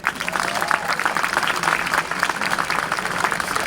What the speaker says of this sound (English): I want to give you a round of applause and thank you